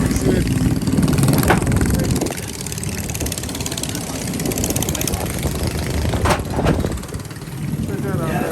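A mini drag bike's small engine idles and revs in short surges outdoors at a park ride-out, with voices talking nearby over the engine noise.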